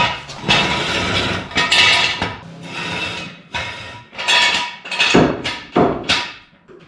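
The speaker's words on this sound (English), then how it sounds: "Knock out the shifter cover." Repeated hammer blows knock out the shifter cover on an FC RX7 during a 5.3 LS swap, loud close metallic strikes in irregular bursts with rasping scrapes between them.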